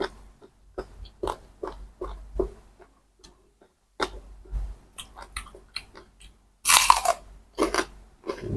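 Crunchy chewing and biting of spicy pounded giant octopus salad eaten with fresh vegetables, close-up bites in irregular bursts with short pauses and a louder crunch near the end, no talking.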